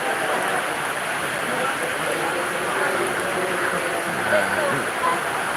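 Steady rain falling during the crowds' return journey from the 20th haul of Abah Guru Sekumpul, a dense even hiss with faint people talking underneath.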